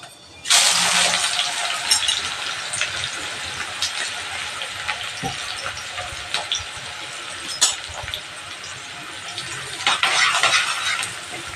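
Onions and green chillies with cumin seeds hitting hot oil in a pan: a sudden loud sizzle that settles into steady frying, with occasional utensil clinks and scrapes against the pan, no talking.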